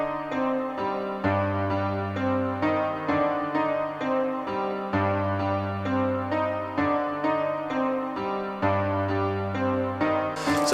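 A looping synth melody over deep bass notes, with one bright sharp note recurring in a repeating pattern, steady and moderately loud, no voices.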